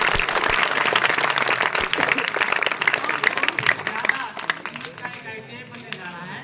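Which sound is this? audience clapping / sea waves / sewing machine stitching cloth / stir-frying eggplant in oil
audience clapping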